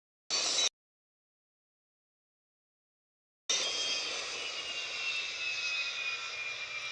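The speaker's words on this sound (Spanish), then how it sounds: "El avión ha entrado en pérdida a punto hacia abajo y aumenta la potencia de los motores." A stalling airliner's jet engines spool up in the Airline Commander flight game, a brief burst then, after a silent gap, a steady loud engine roar with a rising whine.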